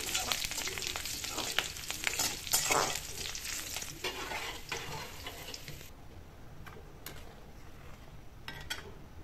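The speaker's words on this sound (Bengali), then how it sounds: "রসুন পেঁয়াজ কাঁচামরিচ দিয়ে ডালটা বাগার দিয়ে দিলাম।" Loud hissing sizzle as garlic, onion and green chili hit hot oil to temper lentils, with stirring and scraping, fading to quieter crackles and occasional clinks toward the end.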